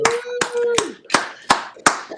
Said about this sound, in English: So gentlemen, let's give Jamie Gill a round of applause.